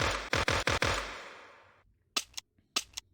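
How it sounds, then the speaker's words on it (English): Video game gunshot effects in a Unity rail shooter: four rapid sharp shots ringing into a decaying tail, followed by crisp mechanical reloading clicks in two quick pairs, all close and clean. "there are some recorded sounds I implemented, and also some reloading sound."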